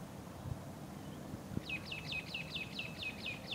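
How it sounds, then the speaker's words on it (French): Birds sing beside St. Paul pond on Réunion: a quick series of repeated chirping notes arrives partway through over a low, rustling outdoor background. "Vous entendez les oiseaux"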